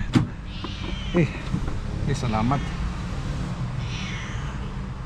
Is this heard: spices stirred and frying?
no